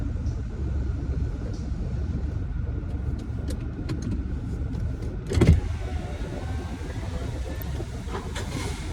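Car pulling into a spot, a low steady engine rumble throughout with faint ticks and a brief louder clunk midway, close and continuous without talk.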